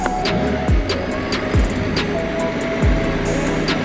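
A BMW E92 325i M Sport, rebuilt after being wrecked, cruises with a steady engine drone and road roar, while several passing whooshes sweep by close over about four seconds.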